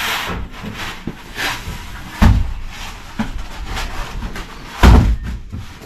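A handsaw cutting through insulation board, giving soft rasping strokes in a fairly regular back-and-forth rhythm, close by, with two heavier thumps partway through.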